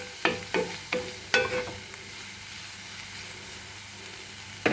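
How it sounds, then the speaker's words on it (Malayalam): Steamed broccoli and carrot sautéing in ghee: a few sharp spatula scrapes and clinks early on over a soft, steady sizzle that continues quietly on its own, close by. "ഇനി നമുക്കിത് നല്ലപോലെ ഒന്ന് സോട്ട് ചെയ്തെടുക്കാം"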